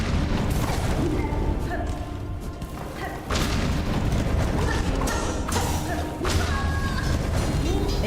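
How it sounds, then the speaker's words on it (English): Large explosions in a video game boom repeatedly across the clip, loud dense crashing blasts with mechanical clanks layered over a continuous roar, no clear gaps between hits. "Those are like, those explosions are too large."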